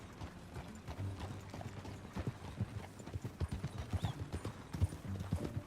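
Horse hooves in Red Dead Redemption 2 clip-clop in a steady walking rhythm, close and moderately loud, with faint creaks of tack and no speech.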